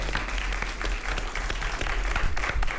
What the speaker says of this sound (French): on se quitte donc sur un tonnerre d'applaudissements pour encourager nos jeunes ambassadeurs.